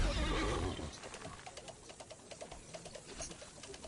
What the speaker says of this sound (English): Hear the horse sound? Like a gallop.